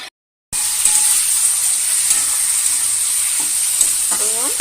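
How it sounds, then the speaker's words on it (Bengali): Masala cooked down with a splash of water in a pan for egg curry sizzles and hisses continuously up close, with light stirring. The sizzle starts right after a short silent moment at the beginning. "একটু জল দিয়ে দেবো। দিয়ে মশলাটা ভালো করে কষিয়ে নেবো।"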